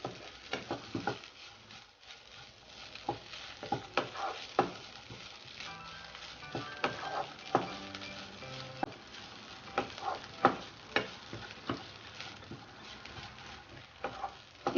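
Okra stir-fry with curry leaves being stirred in a pan, irregular scraping and tapping of a spoon against the pan over a faint, steady sizzle, with no talking.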